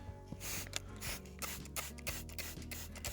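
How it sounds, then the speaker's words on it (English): A garden bush being sprayed, with short hissing bursts and rustling close by. "just give the whole bush a good spray, really"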